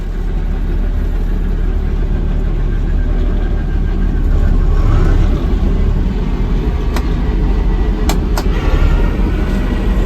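A car engine runs steadily at low revs as the car is driven back to park, a continuous close rumble with no talk over it.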